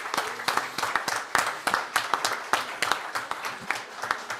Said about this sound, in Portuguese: dar uma salva de palmas aqui para todos os servidores